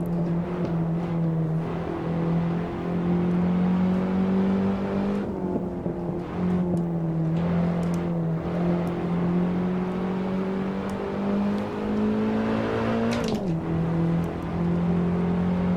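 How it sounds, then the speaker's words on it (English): A race car engine in Assetto Corsa on PS4 holds a steady loud drone during a novice career series race, with brief revs and gear changes partway through and near the end. "The car drives really well."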